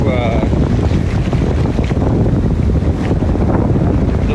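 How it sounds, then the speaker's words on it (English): Strong gusting wind roars across the microphone while waves churn and crash close by, with a voice faintly under the noise. "the waves are too high. It's dangerous, no? Dangerous. It's windy."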